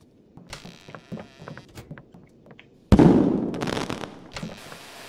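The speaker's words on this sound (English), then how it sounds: "Fireworks. Firework." Video game fireworks in Roblox: pops and crackles go off in a quick scattered series, capped by one louder burst with a fizzing tail.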